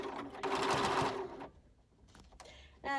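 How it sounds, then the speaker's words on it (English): A sewing machine runs a straight stitch through felt while assembling a small clutch bag, a fast close whirring burst for about a second and a half, then quiet handling noises and a brief restart at the end. "I'm using that thread to stitch it together, and just a straight stitch"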